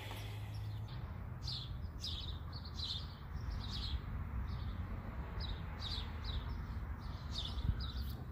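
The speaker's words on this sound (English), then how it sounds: "Birds are chirping." Birds chirp outdoors in repeated short bright tweets spaced about half a second apart, moderately distant over a steady low rumble of ambient noise.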